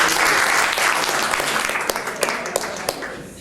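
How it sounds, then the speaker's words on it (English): An audience applauds at a book-author mastermind gathering, a steady wash of clapping from many hands that holds throughout and tapers slightly toward the end, with a few sharper individual claps standing out. "So another round of applause because Tom got it done."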